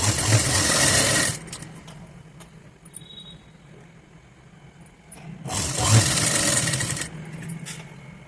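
A sewing machine runs in two loud bursts of stitching, separated by a few quieter seconds of handling, while sewing the front part of a katori blouse.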